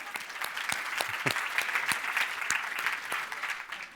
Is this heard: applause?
yes